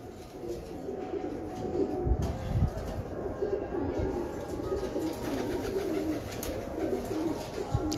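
Pigeons cooing in a loft, a continuous soft murmur of low throaty coos layered over one another at close range, with faint background noise and no clear talk.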